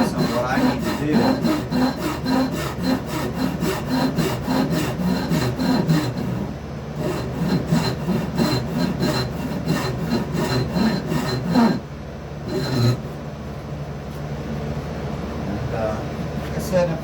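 Wood is cut with a hand saw for a shakuhachi flute mouthpiece, the work held in a vise, in a close, rapid, even rhythm of rasping strokes with a few brief pauses, while someone talks over it.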